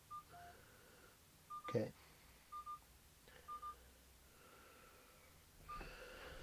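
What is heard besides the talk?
U80 smartwatch phone dialing tones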